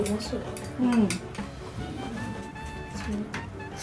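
Chicken noodles (mie ayam) with spicy sambal are stirred in a bowl, a utensil clinking and scraping against the dish in light intermittent taps while people talk nearby.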